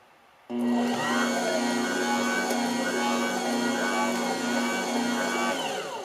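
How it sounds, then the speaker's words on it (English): A Joydeem JD HMJ7L bread machine kneads dough. Its motor starts abruptly and then runs as a steady, loud, close drone with a constant pitch for several seconds. "This kind of thing is definitely going to knead it perfectly."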